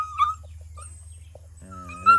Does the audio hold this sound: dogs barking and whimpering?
yes